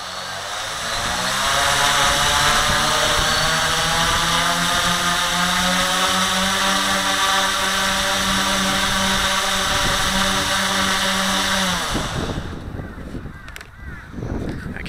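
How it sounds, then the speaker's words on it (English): Motors on a Q450 quadcopter spool up from a standstill to about half throttle, holding a loud, steady harmonic whine and buzz for roughly ten seconds before dropping sharply away to quiet clicks and hum. "I'm going to spool it up to about half throttle and then drop it down"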